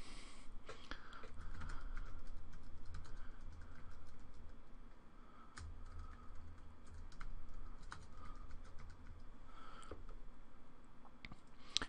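Quiet, close typing on a computer keyboard, with irregular runs of light key clicks and short pauses between bursts.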